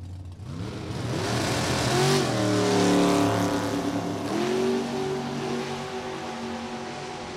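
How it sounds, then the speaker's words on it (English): Drag racing cars, including a Mustang, accelerating hard down the strip at a Joliet drag race, loud engines rising in pitch as they pass, then fading into a steady distant roar. "By Roger Weaver's Mustang beats Jim Nolan's 1091 by 1 foul at the finish line"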